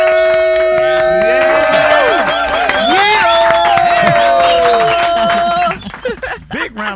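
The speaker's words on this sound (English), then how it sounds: "Big round of applause." A studio audience on a morning radio-TV show applauds and cheers a guest, steady clapping and whoops filling the room under a host's excited voice, then thinning out toward the end.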